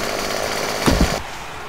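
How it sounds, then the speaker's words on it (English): A chainsaw runs in the 7 Days to Die video game, a loud steady buzzing whine with a brief revving burst near the end, close and unbroken, with no talking. "But it's a chainsaw!"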